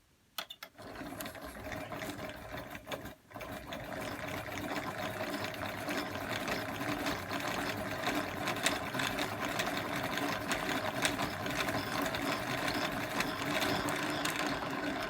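A cone winder spins yarn onto a cone in a continuous mechanical whir with a fast, even rhythmic clatter. It starts and briefly stutters at the beginning, then runs steadily and close by.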